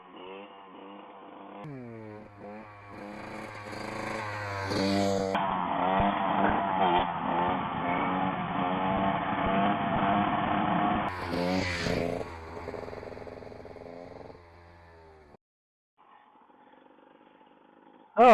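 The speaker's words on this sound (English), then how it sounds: "trying to see if I can actually wheelie this Super Moto" A KTM 300 XC-W two-stroke dirt bike set up as a supermoto revs hard during a wheelie attempt, its buzzy engine climbing and holding loud and close, then falling away to a quiet idle near the end.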